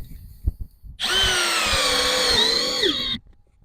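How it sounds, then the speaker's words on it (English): A power drill whirs steadily for about two seconds, its pitch dipping slightly as it drives a screw while capping a window with aluminum, then stops. "I much prefer driving a screw with a drill."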